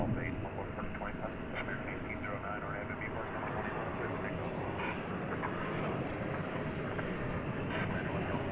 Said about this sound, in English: From Richmond, Virginia, Comes this 737-800 American Airlines flight 2348.